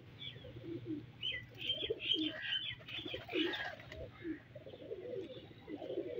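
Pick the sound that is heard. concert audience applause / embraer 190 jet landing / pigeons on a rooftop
pigeons on a rooftop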